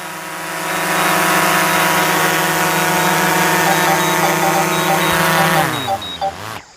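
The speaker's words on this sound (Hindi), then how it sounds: "हमारा ड्रोन जो है वो 1 किलोमीटर की दूरी तय करके वापस आ गया" Camera drone hovering close after returning from a 1 km flight over hilly terrain, a loud steady propeller whine with layered harmonic tones that holds for several seconds, then dips and wavers as the drone slows and descends near the end.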